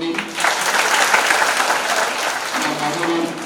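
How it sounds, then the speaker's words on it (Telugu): An audience at a birthday celebration bursts into steady, dense clapping that stays fairly loud and even throughout, with a faint voice now and then beneath it. "ఒకసారి చప్పట్లు కొట్టండి."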